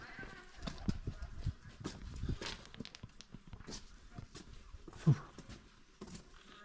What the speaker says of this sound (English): And the old horse and cart